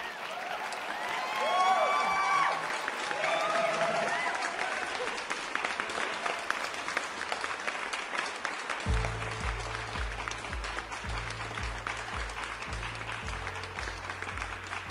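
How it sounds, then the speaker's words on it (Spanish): Audience at the Gala Luxury Awards 2019 gala applauds a band with dense, sustained clapping and scattered voices; about halfway through, a steady low musical beat enters beneath the ovation. "Un fortísimo aplauso para ellos."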